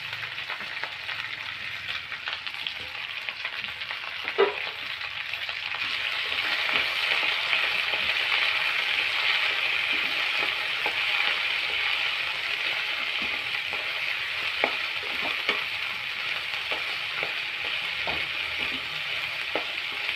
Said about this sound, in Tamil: கடுகு நல்லா பொரிஞ்சிருச்சு. லைட்டாக கருவேப்பிலை போட்டுக்கலாம்.